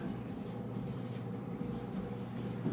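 Marker squeaking and scratching across a board in a steady continuous stroke, fairly faint against a low room hum, with no talking.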